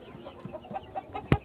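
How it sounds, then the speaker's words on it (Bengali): Fayoumi chickens on a farm cluck softly in a run of short, evenly spaced calls, close by and fairly quiet, ending with one sharper, louder squawk. "এই যে এগুলো হচ্ছে বড় মুরগিগুলো"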